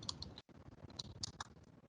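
Keyboard keys clicking as a terminal command is typed to start a Node.js server with nodemon, a quick irregular patter of close, crisp taps with a brief pause partway through.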